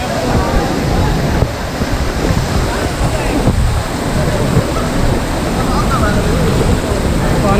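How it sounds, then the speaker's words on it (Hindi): Noori waterfall at Jabri in KPK thunders close and loud, a dense unbroken roar of falling water with some wind buffeting the microphone. "नूरी आबशार।"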